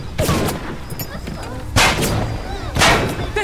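Sniper gunfire in the video game BioShock, three loud booming shots spaced about a second apart, each ringing out over a low game background.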